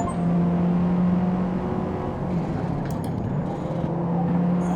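Race car engine held at full throttle in Forza Motorsport, a steady loud droning whine with a faint pitch shift near the end, close and continuous, with no talk.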